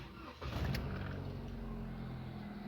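A Jeep Renegade engine cranks and catches after a brief pause, then settles into a steady, close idle running alone without talk.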